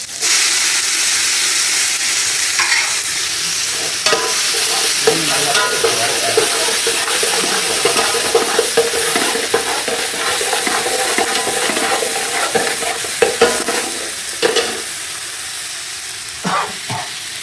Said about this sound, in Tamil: கொஞ்ச நேரம் வதக்குங்க, நல்லா வதக்குங்க.